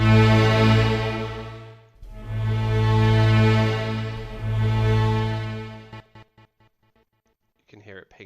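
An Occult Audio Rise & Fall riser sample with delay and tape distortion swells up loudly in repeated waves, then breaks into short echoing pings that fade into near silence before a faint return.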